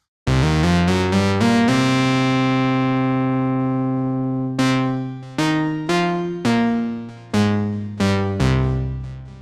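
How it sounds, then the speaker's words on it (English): Synth patch on a Novation Launchkey MK4 set to a metallic reverb, playing a long ringing note that slowly decays, then a run of shorter plucked notes, each with a bright metallic tail. "I've set that up to be quite a metallic reverb sound."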